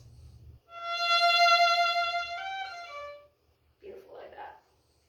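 A bowed string instrument plays a slurred passage from a Kayser etude, several sustained tones fading in a decrescendo, followed by a brief soft noise after a pause.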